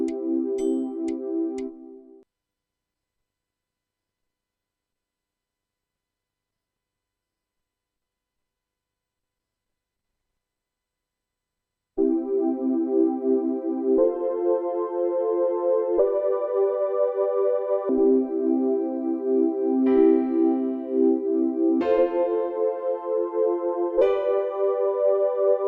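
A Yamaha keyboard style pattern set to root trans chord mode plays a short phrase, pauses in silence for about ten seconds, then plays a steady sequence of shifting chords, clean and close, with no voices.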